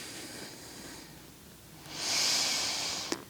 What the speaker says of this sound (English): take some really nice deep breaths